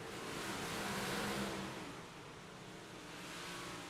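Big Block Modified race cars run at Knoxville Raceway, a distant, steady roar of engines that swells and then eases off slightly.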